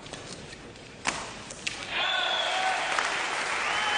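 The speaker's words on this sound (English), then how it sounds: "Just waiting for the applause in the background to die down." Applause drifts over from an adjacent court at a 1997 World Championships badminton quarterfinal. A few thuds come first, then a steady wash of background clapping rises, with a voice heard over it.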